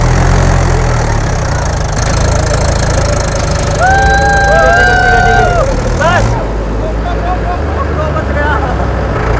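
A tractor engine, running after being freed from where it was stuck in a farm field, idles loudly with a steady, throbbing rumble, and a voice briefly sounds over it.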